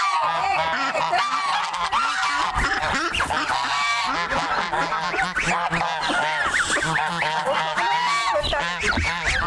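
Loud, dense honking from many geese mixed with turkey and chicken calls, continuous and close, with no talking, at a Tuvan herders' farmstead.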